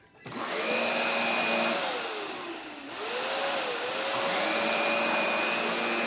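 A 12-amp Kenmore bagged canister vacuum cleaner, with a main motor and a brushroll motor, switches on and runs with a loud, steady whine. Its pitch sags briefly partway through, then recovers. No one speaks.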